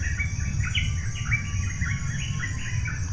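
A bird calls in a repeated series of short, bright chirps over a constant droning background of insects, fairly close and steady throughout.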